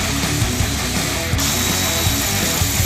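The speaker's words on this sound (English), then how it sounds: "we removed the three little ones, three 7mm that hold the shroud at the bottom" A hand ratchet clicks rapidly and steadily while loosening small 7mm bolts on the lower radiator shroud of a vehicle, close and loud, with no talking.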